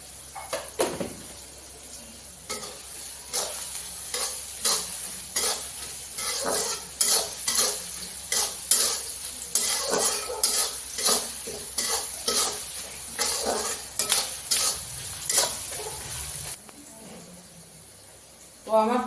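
Onion frying with salt in a pan for a home breakfast, with a steady sizzle and frequent scraping stirs of a spatula against the pan in a regular rhythm, close up, with no talk.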